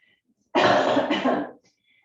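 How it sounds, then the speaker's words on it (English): One loud, close cough burst lasting about a second, rough and throaty, with near silence before and after. "If you're wondering about the cough"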